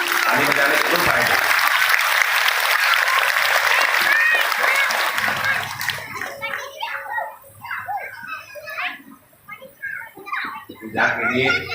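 Loud crowd clapping at a Shiv Mahapuran katha religious discourse in Khagaria, filling the first half and then breaking into scattered murmurs and voices as it dies away.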